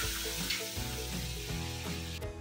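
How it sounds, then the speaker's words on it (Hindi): Hot spice tempering hitting boiling Gujarati kadhi, a sustained hissing sizzle close by, steady and loud without speech. "तड़का एकदम अच्छी तरह से तैयार है, अब इसे मैं कढ़ी में डाल दे रही हूँ।"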